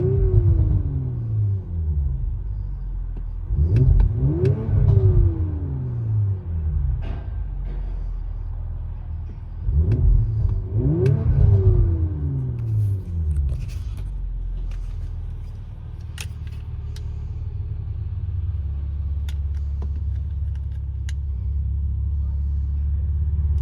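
From inside the cabin of a 2019 Audi RS5 with a 2.9-litre twin-turbo V6 and full exhaust system, two pairs of muffled revs swell and fade over a low, steady rumble.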